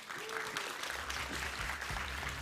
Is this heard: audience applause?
yes